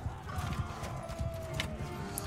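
Mounted raiders gallop in the Mount & Blade II: Bannerlord video game, with a steady clatter of many hooves and an occasional whinny over a busy battle din.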